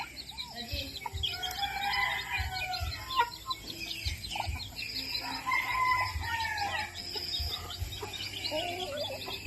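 Chickens cluck and a rooster crows nearby on a small farm in Daet, with scattered bird calls and low rustling in the background; no talking.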